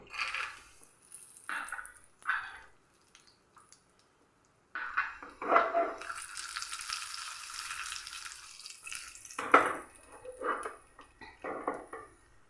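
Cashews and peanuts fry in a little ghee, with short hissing sizzle bursts and a longer steady sizzle in the middle, between quiet gaps and light clinks of a spoon or pan.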